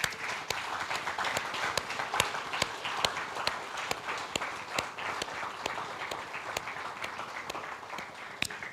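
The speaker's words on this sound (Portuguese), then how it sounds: "Dê uma salva de palmas ao Senhor." A church congregation claps together in praise of the Lord during a Sunday service, producing sustained, even applause with sharp individual claps standing out throughout, moderately loud and without pause.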